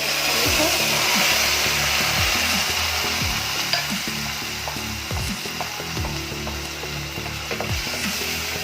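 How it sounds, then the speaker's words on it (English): Tomato going into a pan of golden brown onions, a strong steady sizzle close by, cut through by repeated scraping and clicking stir strokes. "now the onion is golden brown, so we go in with the tomato"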